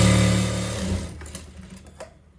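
A sewing machine stitches trouser fabric in a loud continuous whir that slows and fades after about a second, leaving a few faint ticks and clicks near the end.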